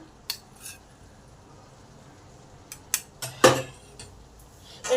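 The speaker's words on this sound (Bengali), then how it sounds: "খুব ভালো করে মোচার মধ্যে মিশিয়ে দিলাম" A spoon scrapes and clinks against a pan while grated coconut is mixed into a banana flower curry, a handful of sharp metallic taps spaced over a quiet background.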